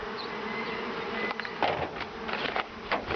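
Bees buzzing around beehives during an inspection, a dense close hum of many insects with individual wingbeats passing near, moderately loud and steady, with no talking.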